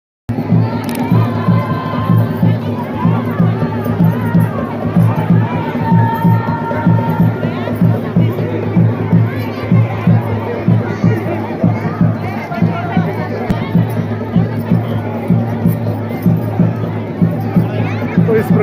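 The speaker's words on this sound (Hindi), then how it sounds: "हुड गांव की सभी लोग बाबा के दर्शन पाने के लिए आतुर और काफ़ी भयंकर वाली भीड़" A large crowd of villagers in Hud village gathered for Baba's doli procession, a dense, steady hubbub of shouting and chatter with children's voices and cheering, loud and continuous throughout.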